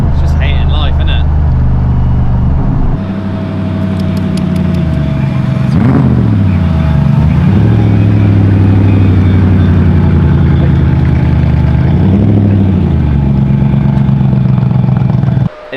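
V8 engine swapped into a BMW E36 idling roughly with a fuel pump relay fault, loud and close, swelling into a few revs and settling back to a rumbling idle, with people talking over it.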